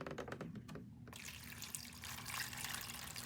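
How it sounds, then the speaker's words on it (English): A faint patter of drips, then leftover water poured out into a tray as a continuous splashing trickle, close and quiet, with no talking. "take the rest of this water and we're going to go ahead and dump it into the tray"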